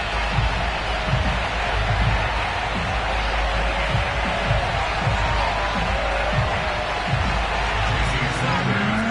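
Stadium home crowd in Madden 22, Dolphins fans ahead of a game against the Buffalo Bills, roaring in a steady, dense wall of cheering and babble with indistinct voices mixed through it throughout.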